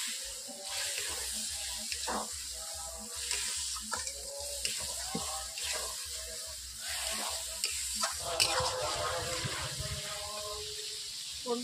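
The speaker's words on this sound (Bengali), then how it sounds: "কড়াইতে বসে আছে মশলাটা, তার জন্য আমি অল্প করে জল দিয়ে দিচ্ছি" Spice masala with turmeric sizzles in a wok as a little water is added, with steady hissing, stirring scrapes and clinks close by and quiet background room noise.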